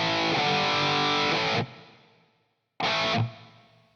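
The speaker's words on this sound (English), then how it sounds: "So there's that reverb tail." A distorted electric guitar through a cab sim, with chorus and a Slate Digital Verbsuite Classic plate reverb, plays two loud bursts, each cut off so the smooth plate tail rings on and fades into silence.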